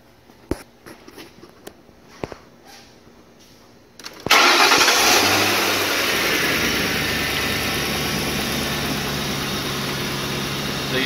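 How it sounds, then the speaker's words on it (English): A car engine cranks and catches after a few faint clicks and knocks, then settles into a loud, steady idle that continues to the end. "So we're going to go ahead and start the car and get our waveform."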